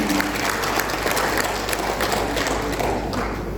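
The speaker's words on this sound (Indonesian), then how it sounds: "Tepuk tangan buat masyarakat." An audience at a village groundbreaking and outreach event in Pasir Karoli applauds the villagers, with loud, close, continuous clapping from many hands over a few seconds.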